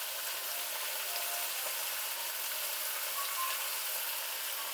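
Chicken frying in a pan with garlic ginger paste stirred in gives a steady, close hiss and sizzle throughout, with no talk and no breaks.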